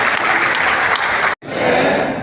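Loud applause from an audience at a self-reliant India pledge rally in Chhatarpur, broken by a split-second cut and then resuming at full strength.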